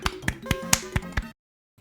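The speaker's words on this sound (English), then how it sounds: "That was clapping." Short, crisp digital claps from the Looney Tunes Double Pack video game, six sharp hits in a quick uneven run over a bright synthetic tone, then an abrupt silence and a brief faint return.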